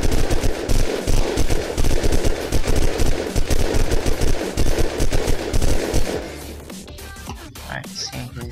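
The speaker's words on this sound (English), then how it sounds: "Alright, so I'm just gonna shoot in here." Rapid automatic gunfire in the survival game Unturned, loud dense bursts for about six seconds before dropping to scattered quieter clatter and ambient noise.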